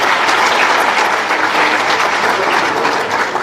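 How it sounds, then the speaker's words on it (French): A crowd at a party political rally applauds the press, a loud, dense wash of clapping that holds steady from start to finish with no voice over it. "Il faut applaudir la presse qui n'a pas bougé."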